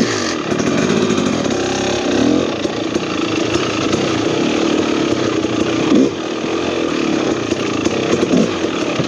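2023 KTM 300XC TBI two-stroke dirt bike engine runs loud and close, a raspy buzzing drone that rises and falls with throttle blips and never pauses.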